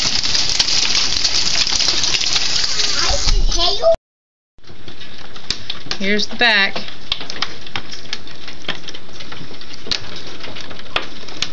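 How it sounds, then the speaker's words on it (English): Hailstones pelting the doors of a house in Lawndale, North Carolina, a dense loud rattling clatter that stops briefly and resumes, with someone talking over it. "That's all hail."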